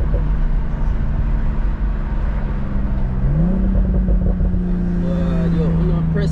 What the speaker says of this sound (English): I'm gonna press the gas